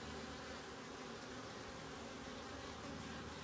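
Honey bees drone steadily throughout an open hive being inspected, a dense, continuous close buzzing with no talk over it.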